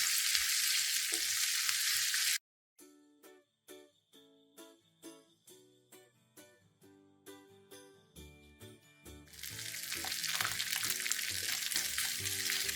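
Ginger-garlic paste fries in a pan for a Kerala chicken pickle, a bright hiss of sizzling with stirring that gives way to a plucked musical interlude, then returns louder and steady.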